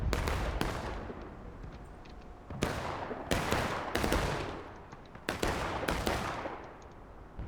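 Repeated heavy booms of cannon artillery in a Civil War–era War of Rights public match, several loud broadband blasts spaced irregularly with rumbling decay between them, no talking.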